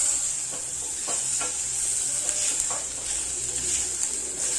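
Chopped tomatoes frying in dry-roasted spices for a mixed vegetable dish, a close, even sizzle with several soft scraping stirs of a spatula, no voices.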